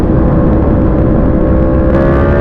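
A 2020 Yamaha MT-10 motorcycle accelerates in third gear in riding mode 1. The engine gives a loud, close, continuous roar that climbs slightly in pitch, with no talk over it.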